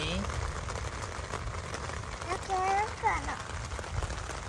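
Rain falls steadily outside a tent on a family camping trip in the forest, a soft continuous patter close by, with people talking over it.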